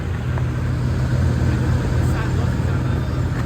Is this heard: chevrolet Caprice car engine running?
yes